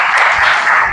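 A gathering at a spiritual retreat in Jaipur breaks into steady, dense clapping that fills the whole short moment at close range, with no voices over it.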